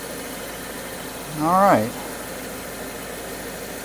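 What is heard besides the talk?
2014 Subaru Forester engine idling after oil change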